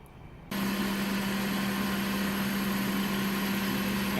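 Toyota Corolla 1.4 VVT-i 4ZZ-FE engine catching at about half a second and then idling steadily and evenly, a close, loud, continuous hum with a strong low drone and a high whine, despite low compression on cylinder 2.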